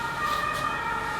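An emergency vehicle siren in the south of France wails as a steady tonal drone heard from an apartment, moderately loud and continuous through the brief moment.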